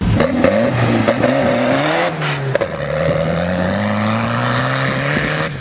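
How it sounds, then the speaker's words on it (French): A farm tractor accelerates hard and speeds off, its loud, close engine drone rising and falling in pitch as it revs, with no voices over it. "il est monté dans son tracteur. Et là, il a commencé à tracer, à bombarder"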